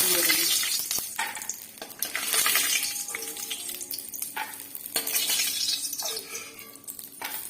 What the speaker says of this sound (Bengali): বাদামটা ভেজে নেব